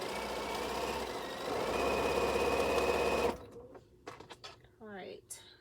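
A sewing machine runs steadily while stitching quilt pieces, its close, continuous motor hum lasting about three seconds before it stops and soft handling noises and a voice follow.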